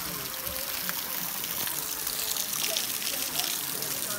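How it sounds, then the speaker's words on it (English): Steady rushing and trickling of flowing jungle river water near Puerto Vallarta, continuous and fairly close, with no other sounds standing out. "Clean river water."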